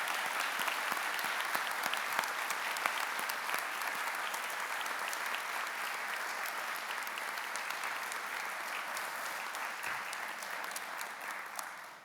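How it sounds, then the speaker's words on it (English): A large audience at a campus address gives a sustained round of applause for a university supporter, steady dense clapping that fills the room for about twelve seconds, fairly distant and even, tapering slightly at the end. "Would you all join me in giving her a round of applause?"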